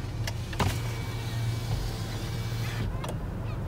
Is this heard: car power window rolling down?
yes